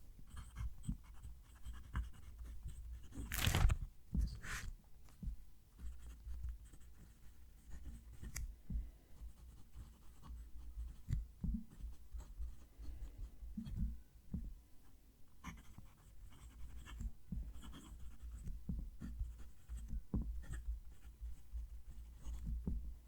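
Nib of a TWSBI Eco fountain pen scratching across paper, a long run of soft, faint, irregular strokes and scribbles with brief louder touches, close up and without talk.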